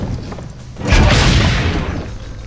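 Cannon fire in Assassin's Creed Brotherhood, a single loud booming blast that swells abruptly and rumbles on for about a second before fading back to a low background.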